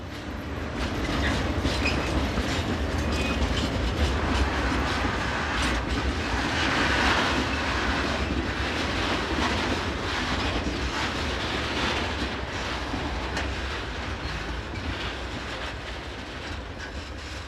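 Train 620.051 running into a station off the Utteville line: a steady, loud rolling rumble with faint rhythmic clatter of wheels on rail joints, easing slightly toward the end, no talking.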